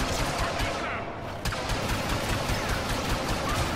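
Blaster-style gunfire from a Star Wars video game, dense rapid bursts of shots mixed with vehicle rumble, loud and continuous with a brief lull near the start.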